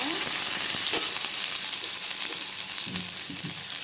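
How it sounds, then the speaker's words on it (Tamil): Onions, curry leaves, mustard seeds, cumin and dried red chillies sautéing in oil in a pan for ridge gourd koottu: a steady close sizzle with faint stirring scrapes throughout. "வெங்காயம் நல்லா வதங்கட்டுங்க"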